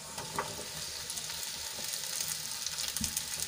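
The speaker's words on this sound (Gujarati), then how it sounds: "તો હવે એમાં આપણે બટેટા એડ કરી લઈશું" Potatoes drop into a hot Gujarati tempering for a dry farali potato dish, setting off a steady, close sizzle and frying crackle. Light scrapes and taps from stirring break through the sizzle now and then.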